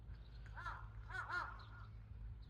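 Crows cawing outdoors, a harsh call near the start and two louder overlapping caws in the middle, set against a steady low background rumble; the flock has been gathered for a day.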